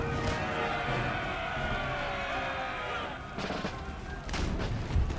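Round shot firing from artillery in an Empire Total War battle, booming cannon reports rolling over a dense, continuous din of gunfire and battle noise, with sharper bursts of shots near the end.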